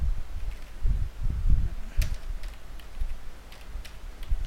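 Typing on a computer keyboard produces a fast run of soft clicks and thumps close by, easing into lighter scattered key taps, with no talking.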